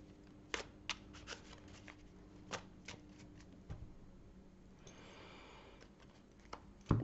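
Rider tarot cards being shuffled and cut by hand, a quiet sequence of crisp card snaps and taps with a brief soft riffle near the middle.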